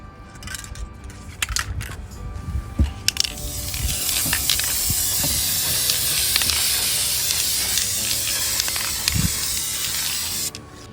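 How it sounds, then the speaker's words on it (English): A long, steady hiss from a spray can spraying the back of a print, preceded by a few clicks and rattles; close and fairly loud, with a handling knock near the end. "I'm gonna flip it over and we're gonna spray it."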